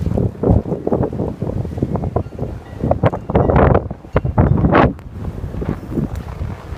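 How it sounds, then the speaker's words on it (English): Blizzard wind roaring loudly across an outdoor microphone, with fierce gusty buffeting and blowing snow in bitter cold, continuous and close. "And the snow is just blowing like crazy."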